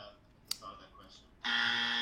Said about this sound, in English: let me get my wrong answer buzzer ready